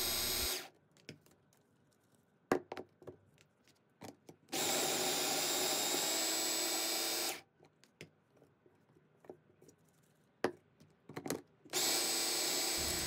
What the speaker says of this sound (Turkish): pastamızın üst kısmını kaplamak için kum haline gelene kadar robottan